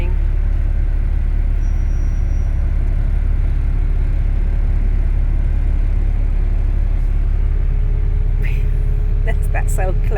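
A rubbish truck, a scaffold lorry and a bus grind around a tight corner together, their engines forming a loud, steady low rumble and idle throughout, close by, with faint sounds near the end.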